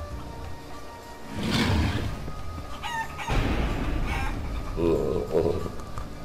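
A chicken in the video game Guacamelee squawks and crows in loud bursts, with game whooshes and effects between the calls.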